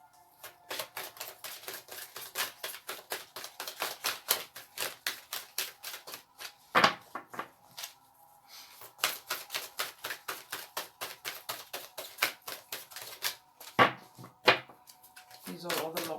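Large, stiff tarot cards are shuffled in quick riffling bursts, repeated in rhythmic runs with short pauses and a few louder knocks, close by and fairly quiet.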